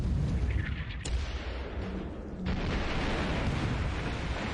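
Naval guns firing on a patrol gunboat in a night surface action in the War Plan Orange war game, heard as a dense, continuous roar of heavy booms and rumble that briefly dips, then swells again, loud and without voices.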